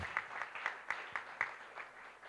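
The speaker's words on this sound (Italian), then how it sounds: "vi salutiamo con un applauso" Faint, sparse clapping from a small community gathering in Italy, a handful of distinct claps spaced out over a couple of seconds, distant and quiet.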